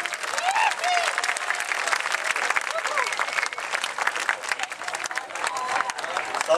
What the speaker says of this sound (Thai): อยากจะขอเสียงปรบมือให้กับคุณยูจิเอสเอครับ